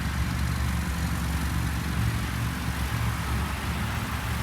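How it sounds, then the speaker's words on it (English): Ford Focus 2-liter engine idling, heard as a steady low hum with a faint ticking quality, even and continuous throughout with no voices. "There's the old 2-liter ticking away."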